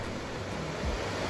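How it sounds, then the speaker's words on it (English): The Pliva waterfall in the centre of Jajce roars as a dense, steady wash of rushing water, close and continuous over the brief moment, with no voices. "if you want to get this close to the waterfall, beware, you're gonna get wet"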